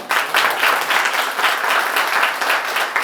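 Audience applause at a college road safety awareness event, in honour of parents: a dense, steady burst of clapping that holds strong for about three seconds.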